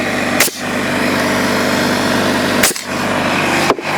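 An air compressor runs steadily in a workshop, feeding an air nailer used to frame studs; a continuous mechanical drone is broken by three sharp, brief nail-firing bangs.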